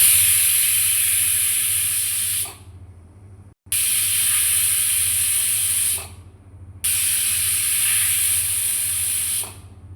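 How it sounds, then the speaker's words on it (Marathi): Pressure cooker whistles three times while cooking spinach curry, each a loud, long, steady hissing blast of steam lasting a couple of seconds, separated by brief quieter gaps with a low hum underneath. "कुकरच्या 3 शिट्या झालेल्या आहेत."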